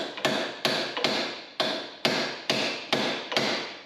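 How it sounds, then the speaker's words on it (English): Sharp metal hammer blows strike a bolt and socket to break loose a rusty Jeep Dana 30 front hub, eight evenly spaced ringing impacts at close range with no talk. "you can strike it with the hammer through here to try to break"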